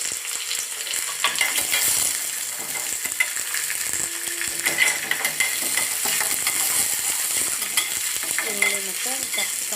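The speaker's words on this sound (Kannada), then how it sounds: "ಈರುಳ್ಳಿ ಮತ್ತು ಕ್ಯಾಪ್ಸಿಕಮ್ ಹುರ್ಕೋಬೇಕು." Onion and capsicum frying in a pan for bisibele bath, a continuous close sizzle and crackle with scraping stirring strokes throughout and no voices.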